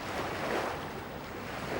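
Water washes continuously in an art installation, a broad, even rushing like surf or wind, steady and moderately quiet with no voices.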